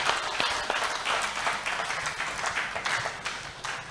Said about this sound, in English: Can we clap for Master Jesus?